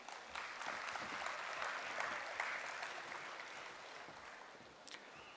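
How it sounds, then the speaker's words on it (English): A conference audience at a management conclave applauds warmly, a soft, steady spread of many hands clapping evenly from a distance for several seconds. "Please join me in giving them a warm round of applause"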